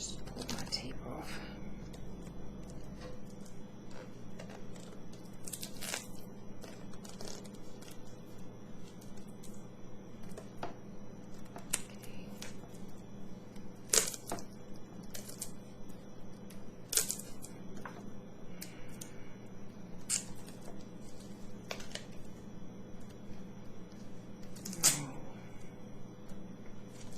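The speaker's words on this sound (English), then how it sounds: "I just pulled my tape off." Tape peeled and pressed while wrapping a hula hoop gives off soft, close crackles and sharp snaps, scattered irregularly over a quiet background with occasional louder pops.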